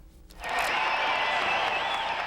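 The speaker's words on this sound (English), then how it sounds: "It was a cheer that Giants fans had waited a long 6 months to let go." Giants baseball fans at a cold home opener let out a broad crowd cheer that swells suddenly and holds as a steady roar of voices and applause, heard from a distance.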